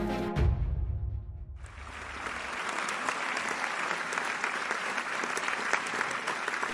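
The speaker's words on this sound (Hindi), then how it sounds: "आपकी तालियों की गड़गड़ाहट के बीच आमंत्रित कर रहा हूं मंच पर बीबीसी की सीनियर जर्नलिस्ट सारिका सिंह जी." An audience at a motivational talk event breaks into applause after a brief low thump, the clapping swelling into a dense, sustained roar that fills the hall to the end.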